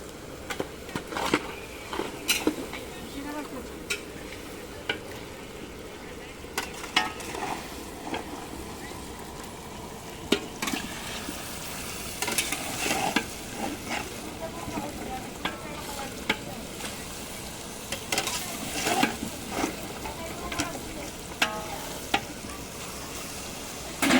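Meat sizzles and fries in spiced masala in a large pan for a big event cooking, with a spatula repeatedly scraping and stirring, irregular clanks over a constant low hiss, faint and steady throughout.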